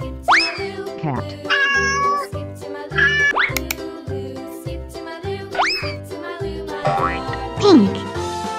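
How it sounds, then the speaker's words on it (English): A cartoon cat meows several times over a bouncy children's song with a steady beat, with a voice naming colors and animals in the song. "Cat."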